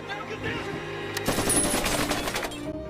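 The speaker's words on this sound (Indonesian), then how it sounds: "mobil yang dinaiki Jonas malah dihujani peluru oleh robot tersebut" Gunfire from a remote-controlled robot in a film, a fast rattling burst of automatic shots building to a dense volley, laid over a tonal music bed and heard close and loud.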